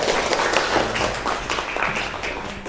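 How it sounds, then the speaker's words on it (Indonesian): Students clapping in a classroom during a teaching session, a moderately loud patter of hands with uneven rhythm and some tapping-like knocks throughout. "Beri tepuk tangan dong."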